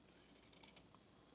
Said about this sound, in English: we're going to cut, and I'm going to use my scissors, right down the center of our light green square